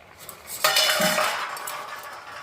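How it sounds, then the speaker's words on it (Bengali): A metal spoon scrapes and clinks in a cooking pot of Bengali pui shak chorchori with rui fish head, one sharp contact followed by a short stretch of clattering stirring, close and fairly clear. "দেখুন মিশিয়ে দেবো একসাথে সব"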